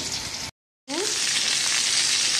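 Pointed gourd pieces dropped into hot oil with cumin, giving a loud, steady sizzle that cuts out briefly and then returns as a full, continuous frying hiss.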